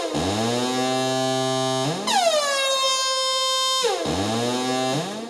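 On a Waldorf Blofeld synthesizer, middle C is played with envelope pitch modulation, so each attack swoops in pitch before settling. Three buzzy sustained tones come in succession, the middle one sweeping down from higher, with no voices.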